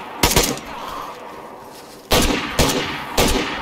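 Loud, close gunshots in DayZ's winter map: one sharp burst early, then after a pause three heavy shots spaced about half a second apart, each with a short ringing tail.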